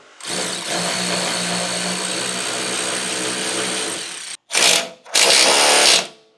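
A power tool whirs for about four seconds, then fires in two short bursts while tightening bolts during the install of a Tandem Offroad full skid plate on a second-generation Toyota Sequoia or Tundra. It sounds close and loud, with no talk.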